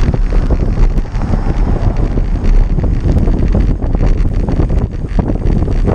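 Heavy wind buffets a microphone during a road cycling group ride, a loud continuous rumbling roar with gusty fluctuations throughout and no voices.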